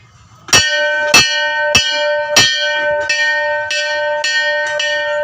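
A metal bell at the Doul Govinda Temple in North Guwahati is struck about eight times in an uneven rhythm, each loud clang ringing on and overlapping the next, with no talking.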